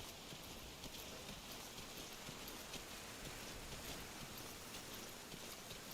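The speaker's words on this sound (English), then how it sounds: "That rain just won't let up." Steady heavy rain pours down in a video game, a dense continuous hiss that stays even and unbroken from start to finish with no other sounds.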